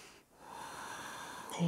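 Quiet, close breathing during a strength-focused yoga pose: a soft drawn breath fades in, holds as a steady airy hiss, then a sharper intake comes at the end.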